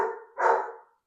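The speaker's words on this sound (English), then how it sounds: "My dog losing her mind unnecessarily." Indoor dog barking, two loud sharp barks close by in quick succession, the second longer, with no talking.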